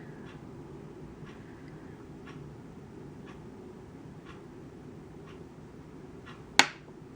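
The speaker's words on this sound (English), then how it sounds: "I'm always dropping my tools on the table. It's kind of loud" A single sharp clack of a tool dropped onto a table while making polymer clay miniatures, standing out against a quiet room with faint soft ticks before it.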